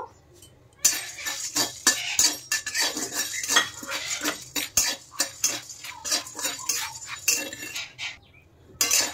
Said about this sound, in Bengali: এইগুলো আমি শুকনো খোলায় ভালো করে ভেজে নেব।